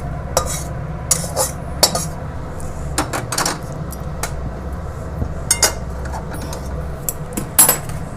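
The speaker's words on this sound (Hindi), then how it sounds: "अब हम काजू भी हल्के हल्के से इसमें सेक लेते हैं।" Cashews being dry-roasted and stirred in a pan for gond laddoos, with repeated metallic scrapes and clinks of a spoon against the pan over a low, steady background hum, close by and without talking.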